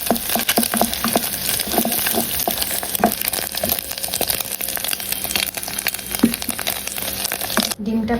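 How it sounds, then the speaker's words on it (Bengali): Bottle gourd peel frying in a pan, giving a dense, steady sizzle and crackle close by, with scraping stirs and clicks of a spatula throughout. "লাউয়ের খোসা ভাজি প্রায় শেষের দিকে, আর কিছুক্ষণ পর আমি নামিয়ে নেব। এটা একদম ভাজা ভাজা হয়ে গেছে।"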